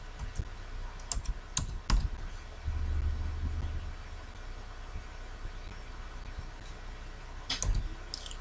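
Computer keyboard typing a file name: scattered close key clicks in small clusters near the start and end, with a low rumbling hum in the quiet middle stretch and no speech.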